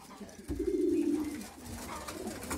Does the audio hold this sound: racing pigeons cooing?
yes